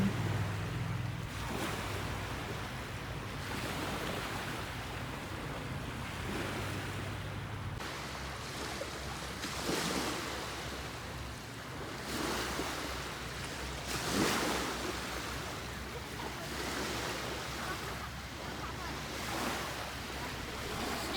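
Waves wash against a rocky breakwater on a cold, gusty Danish coast near Copenhagen, with a steady roar of surf and wind buffeting the microphone, swelling in repeated surges over the whole stretch.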